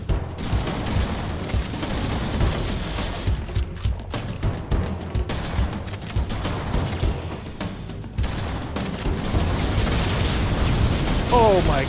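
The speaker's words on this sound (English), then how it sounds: "chain reaction explosion, I'm screwed" Chain reaction of explosions in the Halo video game, a dense, sustained stretch of rumbling blasts and bursts that swells loud near the end, with someone speaking over it.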